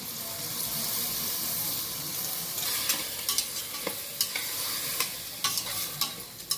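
A steady scraping and sizzling hiss of stirring soaked rice in a pot for mint rice, with sharp clinks of a utensil against the metal scattered throughout, no talking.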